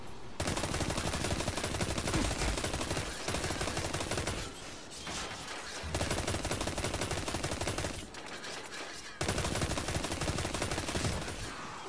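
Rapid continuous enemy gunfire in the Destiny video game, loud dense bursts of shooting with brief pauses between volleys, no voices.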